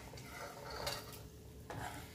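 A utensil lifts fried onion out of hot oil, a faint metal clink and scrape against the pan over a soft background hiss.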